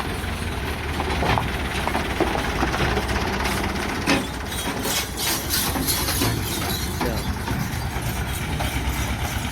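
A road construction machine runs nearby on a village street under repair, a loud continuous mechanical rumble with irregular clattering knocks throughout.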